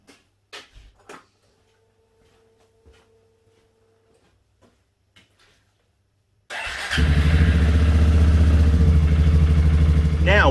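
Suzuki Kingquad ATV engine cranks and fires after a few quiet handling clicks, then settles into a loud, steady warm-up idle close by.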